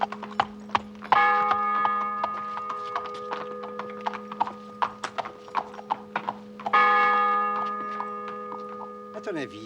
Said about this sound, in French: C'est un cheval, Ambrose.